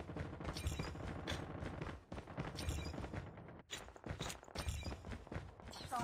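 Assault rifle gunfire in a shooter game, sustained loud rapid bursts, close and dense, with brief pauses between volleys.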